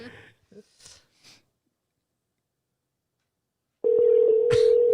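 Voices talk briefly at first, then a quiet pause gives way to a steady, clear telephone tone that runs on alone during a call, while a faint sniff sounds near the end.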